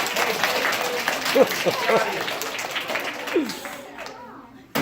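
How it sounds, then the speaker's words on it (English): A classroom audience applauds Paige after a magic demonstration, a dense spread of clapping from a group that carries through the clip with a few voices calling out underneath before it trails off. "let's give her a round of applause"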